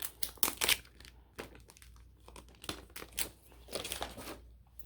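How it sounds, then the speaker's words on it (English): Protective plastic film peeling off a new Samsung Z Fold 3 phone, heard as quiet crinkling and tearing bursts scattered over several seconds, close to the microphone with no talking. "Let's take this plastic off."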